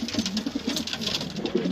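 Lebanese pigeons cooing in a loft, a steady run of soft, close, overlapping coos with a continuous flock murmur beneath.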